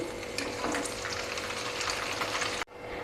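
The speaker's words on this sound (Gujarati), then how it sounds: "ગુવારને આપણે 2 જ મિનિટ તળાવવા દેશું." Cluster beans (guvar) frying in hot oil for Kathiyawadi undhiyu, a steady close sizzle that carries on unbroken, then cuts off abruptly near the end.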